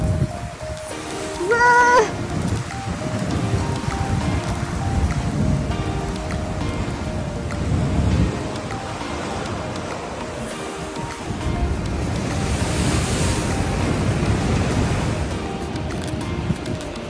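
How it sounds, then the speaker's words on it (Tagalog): Strong wind gusts across the microphone while sea waves crash against rocks, a loud, continuous roaring wash with surges of surf and no talking. "Ang lakas ng hangin kaya ang lakas din ng hampas ng dagat sa mga bato."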